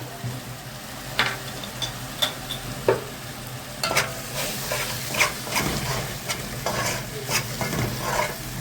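Onions sizzle in a pan with vinegar added, a steady frying hiss broken by repeated stirring scrapes and small bursts of spattering, close and alone without talk.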